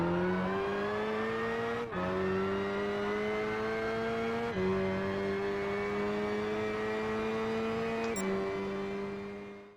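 A Holden Monaro 427c in Gran Turismo 5 accelerates hard with a loud, close engine roar that climbs steadily in pitch through each gear, dropping briefly at three gear changes before building again, then fading at the very end.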